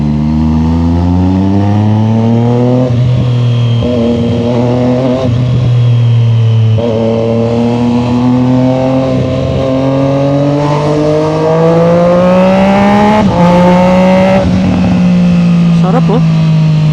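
Triumph Street Triple Moto2 Edition sport bike with a Zard exhaust, its engine rising and falling through repeated revs, loud and close, with a person talking over it.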